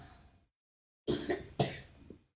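Two sharp coughs in quick succession, fairly close and loud, after a brief stretch of silence, during a Stellenbosch FC vs Kaizer Chiefs football match.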